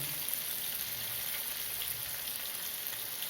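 Brinjal shallow frying in oil in a pan, a steady, close, even sizzle that holds without a break and has no voices over it.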